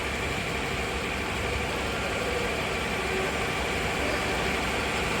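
A Maruti Alto car engine runs at a steady idle during an engine flush at a service, a continuous, even rumble with no breaks and no speech.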